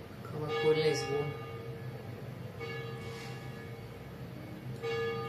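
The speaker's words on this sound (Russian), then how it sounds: "Колокольный звон." Church bells ring out in a few separate strikes with long, humming tones that fade slowly, sounding at a distance over faint background noise.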